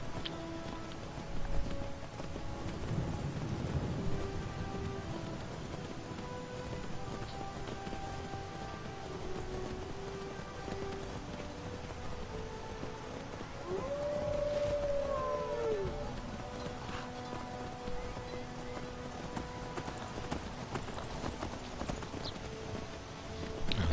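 Steady hoof clip-clops of a horse in a video game, faint and continuous under a dense ambient mix with a long tonal swoop midway through.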